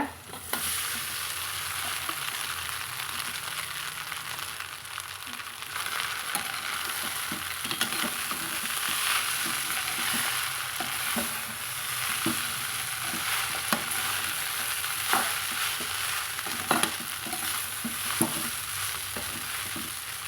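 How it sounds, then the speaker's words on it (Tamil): Leftover idli pieces are stir-fried in a pan with salt, giving a steady close sizzle with repeated light scraping and stirring clicks throughout, and no speech. "இப்போ நம்ம இட்லி சேர்த்து வதக்கலாங்க"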